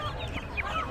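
Chickens at a weekly poultry market cluck in short, close bursts, a brief flurry of fowl calls over a busy market background.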